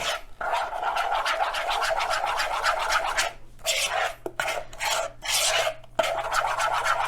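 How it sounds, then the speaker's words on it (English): A spoon works through cornbread fritter batter made with cornmeal, producing a continuous gritty rasping scrape in long strokes with short pauses, close and alone. "And I'm just going to mix it up. Mix it all up together really good."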